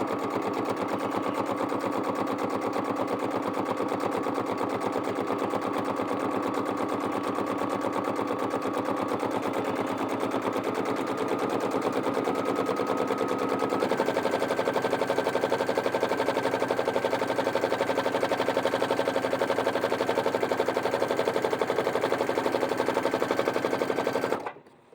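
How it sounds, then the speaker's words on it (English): A sewing machine stitching straight down a pillowcase hem, a steady fast mechanical whir and rattle running without a break at an even, close, loud level before stopping abruptly at the end. "you're going to sew straight down along there to hold your hem in place"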